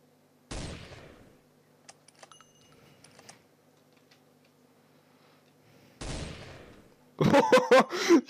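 Shots in a sniper battle game, two sharp separate reports some seconds apart, then a dense burst of rapid loud cracks at the end, over faint background clicks.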